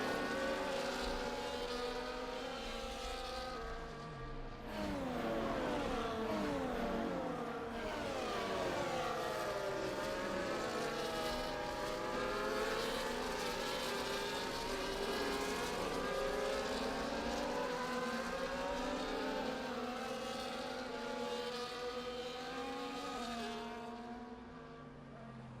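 A pack of F1 race cars in F1 24 at Montreal circles behind the safety car, engines droning steadily at moderate revs with rising and falling pitch as they pass, loud and continuous without talk.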